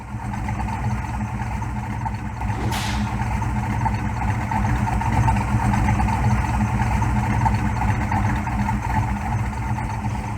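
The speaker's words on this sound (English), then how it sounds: "Those go into a custom dual exhaust system with Flowtech mufflers, and it just sounds like muscle cars should sound" A Ford Mustang Fox Body V8 with custom dual exhaust and Flowtech mufflers idles with a steady, deep, throbbing rumble, loud and close, broken by one brief sharp click partway through.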